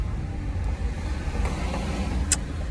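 A car's interior rumble while stuck in traffic, a steady low engine and road drone heard from inside the cabin, with a brief faint click partway through.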